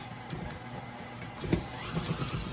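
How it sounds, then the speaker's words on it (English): A can of cooking spray hisses onto the bottom of a pan, a short close burst of aerosol spray that starts partway through, with faint background room noise before it. "I'll just spray it onto the bottom of the pan."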